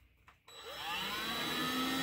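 Black & Decker cordless hand vacuum switching on after a faint click, its motor spinning up within half a second into a steady, loud, high whine that holds to the end, with no voices.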